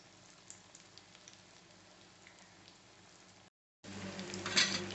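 Spoonfuls of dough frying in hot oil for a vegetarian kari kulambu, a soft continuous crackle and sizzle that briefly cuts out, then returns louder and more bubbly.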